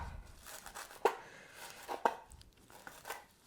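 A knife chops cilantro on a chopping board, with three sharp, distinct cuts about a second apart over soft rustling of the leaves, close and fairly quiet.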